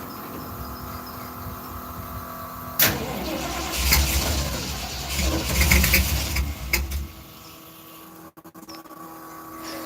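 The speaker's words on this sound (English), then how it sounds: "live cold start" Ford Mustang Mach 1 engine cold-starting with a sudden crank and catch, then a loud, rough idle that surges and rumbles for several seconds before dropping away into quiet.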